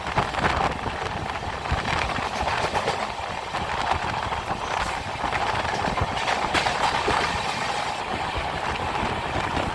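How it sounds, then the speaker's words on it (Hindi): A train runs through rain-soaked monsoon countryside in India with a steady, close rumble and rhythmic clickety-clack of wheels on rail. The noise is continuous and fairly loud, with no talking. "इस वक्त हमारी ट्रेन जिस रेलवे स्टेशन से गुजर रही है"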